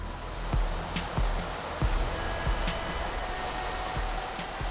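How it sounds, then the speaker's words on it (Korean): Rough waves surge against the steep cliffs of the Christmas Island coast, a steady rushing roar with periodic low thumps as swells break, moderately loud and without voices. "마을의 반대편 해안은 늘 거센 파도에 크게 술렁입니다"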